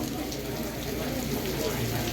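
Rain falls on a rainy day in Korea while travellers head out toward the airport, an even hissing patter with a low background rumble under it.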